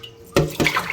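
Tap water runs into a kitchen sink, starting with a sudden gush partway through and continuing as a splashing, uneven flow close by.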